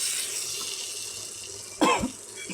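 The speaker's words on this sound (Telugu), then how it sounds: "వాటర్ వేస్తున్నాను." Tap water runs in a steady hiss into curry in a village kitchen, with a sudden cough breaking in near the end.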